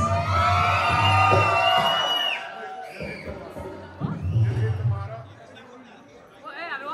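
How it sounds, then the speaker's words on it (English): Wedding crowd at a mehendi and sangeet celebration screaming and cheering on cue, loud mixed shouts and whoops from many guests with chatter, rising in bursts over the first few seconds then again midway, with voices over it. "if you love Richard and Shivani, can I hear you scream, please?"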